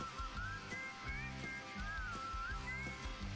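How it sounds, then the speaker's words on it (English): A person whistling a wavering melody in short rising phrases over a background of rhythmic music, faint and somewhat distant. "that's not me whistling because I can't whistle"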